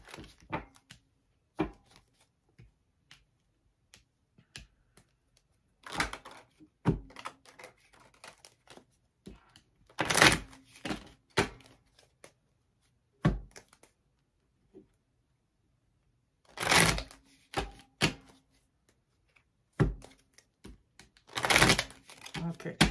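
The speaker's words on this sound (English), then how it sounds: "I'm just going to shuffle the cards three times" Tarot cards riffled and shuffled in several separate bursts of crisp flapping and snapping, with quiet handling clicks and pauses in between.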